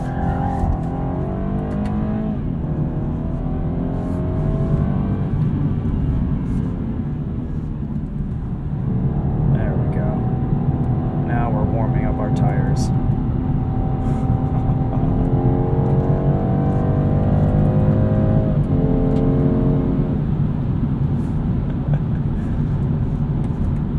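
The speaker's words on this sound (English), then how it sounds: "Engine just doesn't make as much noise." A 2022 BMW 230i Coupe engine while driving, a steady low drone with road and tire noise, fairly subdued and constant, rising slightly in pitch around the middle.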